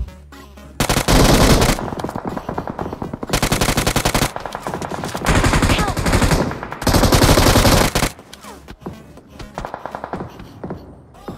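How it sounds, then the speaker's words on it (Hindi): Gunfire comes from all sides in BGMI (PUBG Mobile): loud, dense bursts of rapid automatic fire in several long volleys with brief gaps, plus scattered single shots and faint background game sounds. "ऊपर से चारों बाजू से गोली पड़ रही है"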